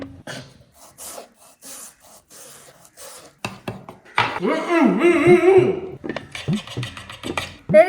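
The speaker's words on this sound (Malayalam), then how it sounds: "ഇനി ആദ്യം നമുക്ക് ഉള്ളി കട്ട് ചെയ്യാം" A knife slicing through an onion on a board, starting as faint sparse cuts, then growing into louder scraping, rasping strokes, with brief voices nearby.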